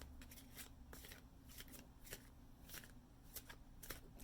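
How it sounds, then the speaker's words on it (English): Tarot cards rustle and slide softly as a card is pulled from the top of the deck, a string of quick, faint flicks and shuffling scrapes up close. "So let's pull a card."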